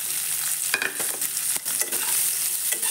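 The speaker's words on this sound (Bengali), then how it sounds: "এটা কিছুক্ষণ একসঙ্গে একটু হালকা লাল করে ভেজে নেব" Chopped onion and green chili with a cardamom pod frying in oil in a pan, a steady close sizzle broken by several scraping stirs of a spatula.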